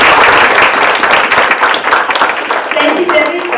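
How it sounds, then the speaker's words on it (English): Audience applause at a faculty talk, a dense, steady wash of clapping that stays loud through the whole stretch, with voices mixed in underneath. "we're going to applaud them because they worked so hard"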